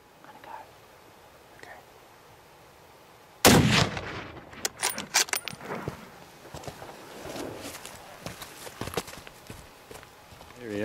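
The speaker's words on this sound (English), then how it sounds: "Good shot, Scotty." A rifle shot rings out during a mountain hunt for wild sheep, goats or ibex, one sharp loud crack after quiet breathing, followed by rustling, clattering movement and hushed voices.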